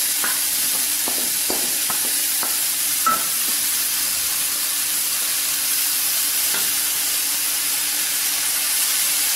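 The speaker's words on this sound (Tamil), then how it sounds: "வெங்காயம் வதங்கிட்டு இப்போ வாழைப்பூ சேர்த்துக்கலாம்." Banana flower being stir-fried with sautéed onions in a pan: a steady close sizzle broken by several sharp scraping and clinking stirring strokes early on, then quieter hissing with no voices.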